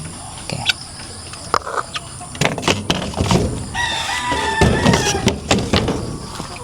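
A young rooster (stag) crows once in a backyard flock, its drawn-out call rising over scattered clucks, a door knock and other fowl noises, fairly close and moderately loud.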